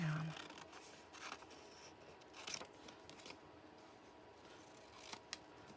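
Scissors snip through paper scraps for a collage booklet, a few soft scattered cuts with light paper rustle, close and fairly quiet, plus a sharper snip near the end.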